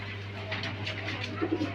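A pair of Rajgolla pigeons coo softly nearby in short, repeated throaty calls over a low steady hum.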